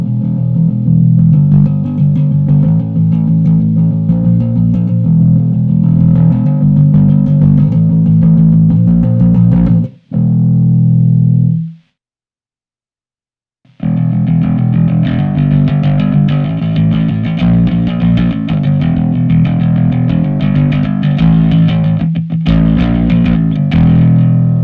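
An Ibanez GSR200SM bass guitar with one pickup turned down plays a continuous, driven line with a gritty, effected tone, loud and close, breaking off briefly near the middle before resuming.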